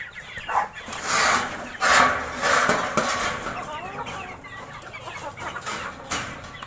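Shamo and heritage free-range chickens with chicks: busy, overlapping clucking and chirping close by, rising and falling in waves throughout.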